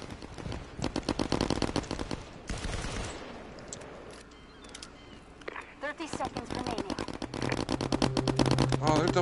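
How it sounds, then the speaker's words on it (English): Rapid gunfire from a competitive video game match, heard as loud, steady bursts of automatic fire that pause briefly and then build again, with voices talking over it. "Oh, they're double shooting."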